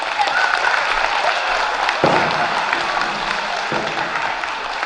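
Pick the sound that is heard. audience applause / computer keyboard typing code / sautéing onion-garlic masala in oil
audience applause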